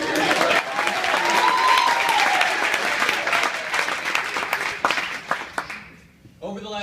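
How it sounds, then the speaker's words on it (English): An audience at a closing dinner breaks into strong, sustained applause that gradually thins and fades out, with a voice talking over part of it and a speaker resuming at the end. "Applause break."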